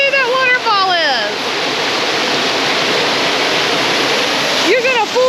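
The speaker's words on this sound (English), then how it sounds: "Look how big that waterfall is." A large waterfall in Georgia roars in a loud, steady, broadband rush that fills the whole stretch, with voices talking over it at the start and near the end.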